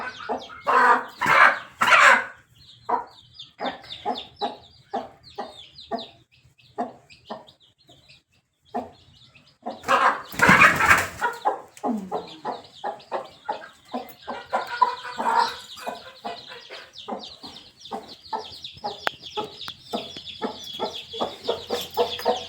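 Country chicken (native village hen) clucking repeatedly in a rhythmic series of short, close calls, with a louder burst of flapping or squawking near the middle and steady clucking throughout, no talk.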